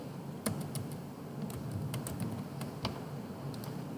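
Keys tapped on a computer keyboard while entering PHP code for a Bootstrap login form, sparse uneven clicks with short pauses, close and fairly quiet, no talking.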